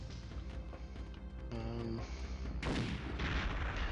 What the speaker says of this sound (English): Devastator. It's a long-range grenade launcher.